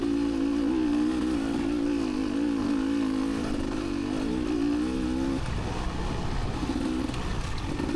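A motorcycle engine drones close and steady under acceleration, its tone climbing and then dropping as the rider shifts, with heavy wind rumble throughout.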